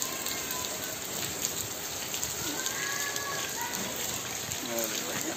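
Steady rain falls across a farm where buffalo and other livestock are kept, a continuous hiss of drops lasting throughout, with faint intermittent sounds layered over the downpour.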